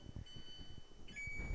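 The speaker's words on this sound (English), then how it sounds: "I'm just gonna put a 15-minute timer over here so I remember" A kitchen timer being set for 15 minutes gives a short series of quiet button clicks, then a thin sustained electronic beep near the end, faint and close.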